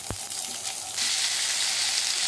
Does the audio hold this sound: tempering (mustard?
yes